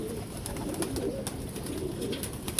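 Pigeons softly cooing in a pigeon-keeping loft, low repeated coos close by with light rustling, while someone speaks briefly over them.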